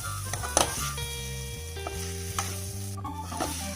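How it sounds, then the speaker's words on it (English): Pork sausages with sauce and yellow capsicum stirred in a frying pan, sizzling close up with repeated scraping and clinking of the utensil against the pan. "I'm now going to mix this really well"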